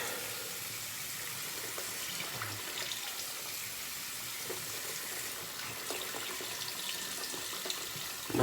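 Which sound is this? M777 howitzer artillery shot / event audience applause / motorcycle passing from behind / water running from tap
water running from tap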